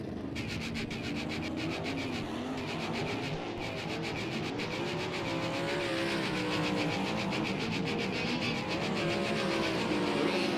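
Sprint race car engine roars steadily through hot laps on the dirt oval at Ransomville in an All Star Sprints session, a loud, continuous high-revving drone with rapid firing pulses and no talk.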